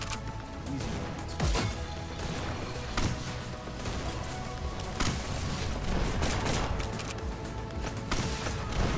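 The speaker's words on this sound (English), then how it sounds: "Let me just grenade on you" A grenade blast in a VR shooter game, heard amid a dense clatter of gunfire and impacts, with sharp bursts recurring over a constant loud game din; no voices.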